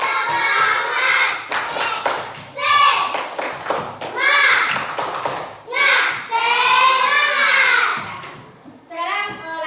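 Primary school children in an Indonesian classroom perform the tepuk semangat clapping chant, rhythmic bursts of hand claps alternating with loud chanted young voices and a teacher's prompts.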